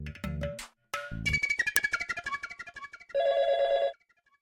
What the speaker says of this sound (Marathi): श्री, मला फोन करायचा अर्जंट.